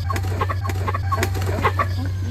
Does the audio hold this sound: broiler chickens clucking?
yes